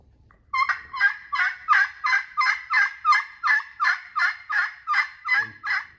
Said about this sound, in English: And then draw an oval for a yelp.